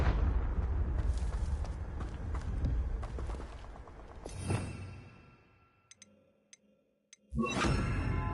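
Confringo blasting spells explode in Hogwarts Legacy: a rumbling clash of blasts, then a sharp burst that fades into near quiet with faint ticks, before a sudden loud explosion closes it.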